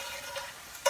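A utensil scrapes beef drippings across a skillet, a brief soft sizzling scrape that ends in one louder, sharper stroke.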